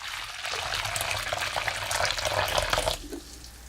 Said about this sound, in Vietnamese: Đầu tiên mình cho nước sôi vào thố